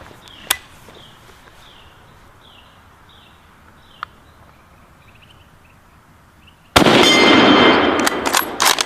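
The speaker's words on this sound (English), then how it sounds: "Let's load this German Mauser and shoot it." A German Mauser K98K rifle, dated BYF 43, is loaded with a few faint metallic clicks before one sharp, loud outdoor gunshot whose echo lingers.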